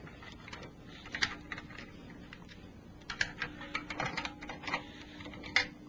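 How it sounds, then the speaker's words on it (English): Bolts being removed from the pan of a 4R70W transmission, a faint run of small metallic ticks and clicks from a hand tool in quick irregular bursts. A brief pause comes in the middle, with no talking. "let's start taking our pan bolts out"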